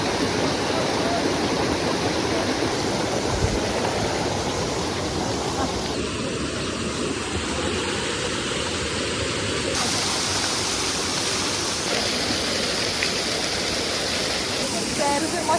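A secret waterfall near Rishikesh, India pours with a constant, dense roar of crashing water heard up close, unbroken throughout, with faint tonal shifts as the listening position changes slightly.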